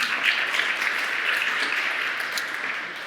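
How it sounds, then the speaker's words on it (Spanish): A conference audience at a software development talk bursts into applause, a bright, dense crackle of many hands clapping together, steady and close, tapering slightly toward the end. "Así que un aplauso, por favor."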